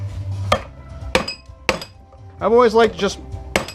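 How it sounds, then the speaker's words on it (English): A hammer strikes a scrap fluorescent light fixture in a few sharp metallic clanks spaced about half a second apart, with rattling and a short burst of scraping between them, while someone speaks. "go at them with a hammer"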